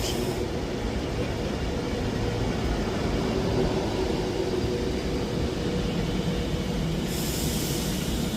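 Avanti West Coast Class 390 unit 390148, the 10:58 Edinburgh Waverley to London Euston service, pulls into Edinburgh Haymarket station with a steady, loud rumble and rolling wheel noise that holds throughout, alone with no talking.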